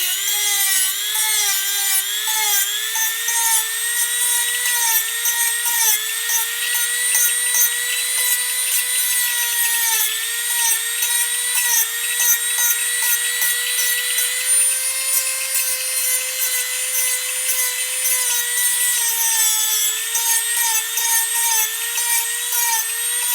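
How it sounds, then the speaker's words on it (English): A sanding disc grinds against carved wood on a wooden ventriloquist dummy figure, a loud, continuous high whine with a steady pitch and a rough, rasping edge throughout. "We'll use our sanding disc to smooth this down."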